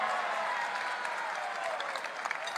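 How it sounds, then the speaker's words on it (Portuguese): A crowd at a political party convention applauds, a sustained dense patter of many hands clapping at a moderate distance and tapering slightly toward the end. "Hoje tua salva de palmas para o Genuíno, que ele está aqui."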